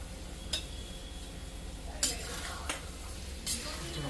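Potatoes tipped into boiling masala in a home kitchen, a steady low simmering bed broken by a few sharp clinks and splashes of pieces and a spoon hitting the pot, with no one talking.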